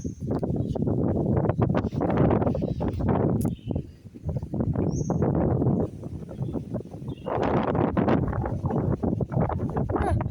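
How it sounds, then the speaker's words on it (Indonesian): Strong outdoor wind buffets the microphone, producing heavy, continuous low rumbling gusts that surge and drop, with a brief lull before the blasting resumes. "Banyak angin."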